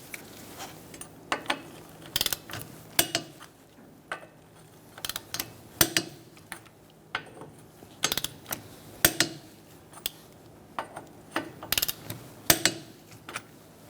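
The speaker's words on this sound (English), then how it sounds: "We're going to be torquing our wheel to 63 foot-pounds using a 17mm socket" A torque wrench on a 17mm socket tightening Fiat wheel nuts in a crisscross pattern, sharp ratcheting clicks in short bursts separated by pauses, close and distinct, with no talk.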